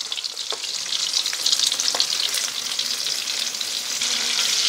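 Onion, ginger and garlic sizzle in plenty of hot oil for pork binagoongan, a bright steady frying hiss with occasional stirring clicks and pops, close and continuous without voices.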